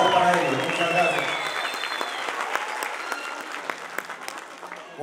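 Applause from a crowd at the opening of an international dance festival in Samacá, loud and dense at the start and tapering gradually, with a voice over the first moments.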